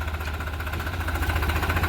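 A New Holland 3630 4x4 Super Plus tractor engine runs steadily, a low rumbling idle with an even, pulsing throb, close and continuous with no talk over it.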